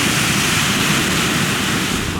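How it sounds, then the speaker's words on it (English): Surf rolls in at Siesta Key beach in a steady, loud wash of ocean waves, mixed with some wind buffeting the microphone. "But still some decent waves this morning,"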